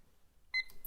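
A kitchen-style countdown timer gives a short electronic beep as it is started, a brief bright tone followed by a couple of quick higher chirps, close and clear against a quiet room.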